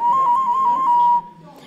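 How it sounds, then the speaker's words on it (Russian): A clay whistle blown at a spring festival gives a clear, fairly loud warbling tone with quick trills for about a second, then stops abruptly, leaving faint background noise. "Вот, например, еще один атрибут зазывания весны – свистульки."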